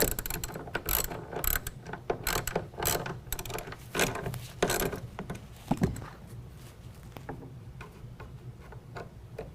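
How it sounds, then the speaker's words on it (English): Ratcheting clicks come in quick bursts while a 13mm nut and a Phillips head screw are tightened on a tonneau cover rail of a 2019 Chevy/GMC 1500 pickup, close by and fairly quiet, with no voices. "You will reinstall the 13mm nut, tighten that down, and then we can go ahead and tighten down the Phillips head screw."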